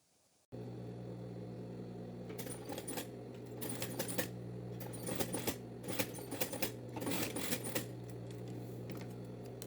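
A sewing machine runs in bursts, stitching a trouser waistband closed on a women's dress pant, with rapid rattling needle strokes starting and stopping over a steady motor hum, close and moderately quiet.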